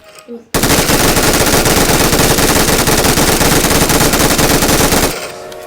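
Sustained automatic gunfire from an enemy in a video game, a dense, loud rattling burst that runs unbroken for about four and a half seconds before cutting off.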